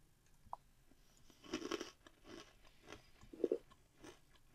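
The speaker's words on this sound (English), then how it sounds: "Nothing beats that frickin' crunch." Close crunching bites and chewing of a Cadbury Crunchie honeycomb chocolate bar, a few sharp crackling crunches followed by quieter chewing, with no talk.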